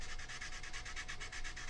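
Rhythmic back-and-forth scraping of a sanding block rubbing a surface, with about a dozen even strokes, close and steady with no talking.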